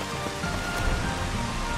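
Rain falls steadily in the video game Final Fantasy XV, a dense hiss of drops spread evenly across the short stretch with no voices.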